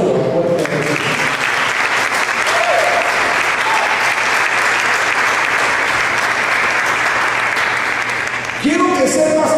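A church congregation applauds loudly and steadily for several seconds, a dense wash of clapping that stops abruptly near the end as a voice comes back in.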